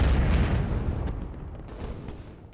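A heavy video game artillery cannon boom opens, then rumbles and rolls away into a long, dull decay with a few distant thuds.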